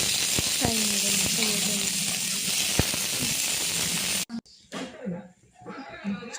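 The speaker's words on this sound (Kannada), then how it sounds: "ಸ್ವಲ್ಪ ಆಯಿಲ್ ಹಾಕಿ ಫ್ರೈ ಮಾಡೋಣ." Tomatoes and chillies sizzling in hot oil, a steady dense crackle for about four seconds with a few sharp spatters, then the sizzle drops away to quieter, intermittent frying and stirring.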